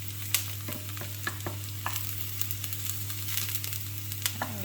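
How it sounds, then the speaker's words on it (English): Carrot and lentil burger patties frying and browning in a pan give a steady sizzle, broken by repeated scraping clicks as they are stirred close up. No one speaks. "after a few minutes, just give them a good stir if you haven't already"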